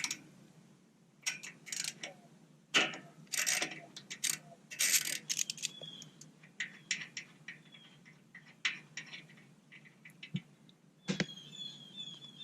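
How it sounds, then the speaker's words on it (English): A 12 millimeter socket loosening the oil drain plug on a Honda GX340 engine gives close, quiet ratcheting clicks and metallic ticks in irregular bursts, alone without talk. "we're going to take our 12 millimeter socket and put it on there, and all you got to do is just loosen it up"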